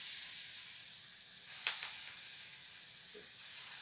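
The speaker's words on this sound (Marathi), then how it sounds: "अशाच मी सगळ्या भज्या तळून घेते." Dal bhaji fritters fry in hot oil in a kadhai, giving a steady close hiss with a few soft pops and crackles and no voices.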